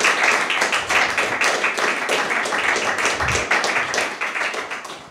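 Audience applause at a live event, dense continuous clapping from a crowd that holds steady throughout and tapers slightly at the end, with no talk over it.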